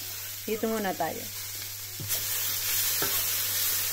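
Vegetables sautéing in a pan beside set-aside meat, sausage, garlic and onion, a steady close sizzle with a couple of sharp stirring clacks, someone speaking briefly over it at the start.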